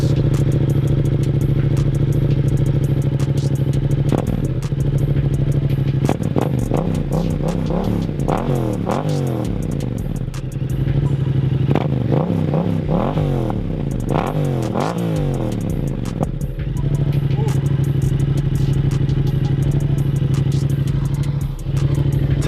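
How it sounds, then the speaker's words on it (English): A warm Yamaha XSR700 motorcycle engine idles steadily, then is blipped through several sharp rising revs in two bursts before settling back to a loud, even idle, with no voices. "let's see what this bike sounds like"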